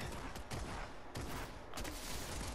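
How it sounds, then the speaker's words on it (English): Fortnite gunfire, a rapid burst of shots with sharp cracks at irregular intervals, heard at moderate distance amid a continuous noisy game backdrop. "Oh, someone else shooting? Where they at?"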